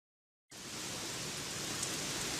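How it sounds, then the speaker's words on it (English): Heavy rain starts abruptly after a moment of silence, then pours as a dense, steady hiss at an even level. "It's raining cats and dogs again."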